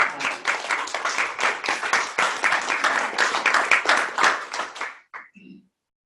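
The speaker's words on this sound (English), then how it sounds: "If we can give them a round of applause" An audience at a Houston presentation claps in a dense, lively round of applause that holds for about five seconds, then stops abruptly, leaving a brief faint voice.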